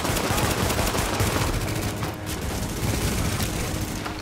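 Dense automatic gunfire in the video game The Division, rapid overlapping bursts of loud shots and impacts continuing nonstop, with a brief dip midway before the barrage resumes.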